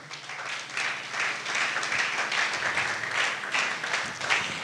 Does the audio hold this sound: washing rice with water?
no